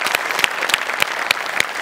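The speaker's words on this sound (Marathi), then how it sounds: "जोरदार टाळ्या" A studio audience at a Marathi comedy sketch show claps loudly and continuously, with a dense roar of applause and sharper individual claps standing out at a regular pace.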